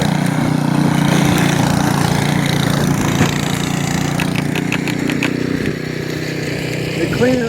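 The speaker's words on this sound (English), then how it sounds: "Get out the snowblower." A snowblower engine drones steadily during a big snowstorm, loud and close at a constant pitch throughout, with a person speaking over it.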